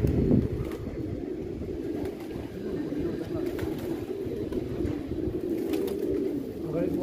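Pigeons loose on an open rooftop coo softly and steadily in the background while someone talks over them.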